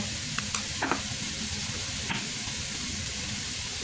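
Oil heating and frying in a pan for stir-fried beef with holy basil and dried chillies, a steady close sizzle with a few sharp crackles and pops early on, no voices.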